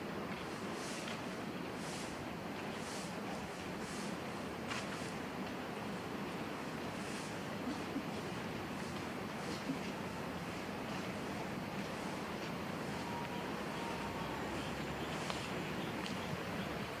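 Strong wind and sea waves roar continuously on a stormy morning beach at Cha-am in rain, a steady broadband wash with gusty buffeting and no voices.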